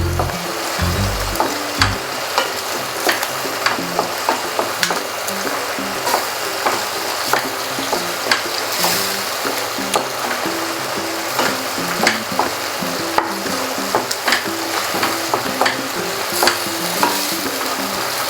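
Chili brinjal masala curry sizzling steadily in oil in a pan, with a spoon stirring and scraping the bottom in frequent short clicks, loud and close, continuous throughout without speech.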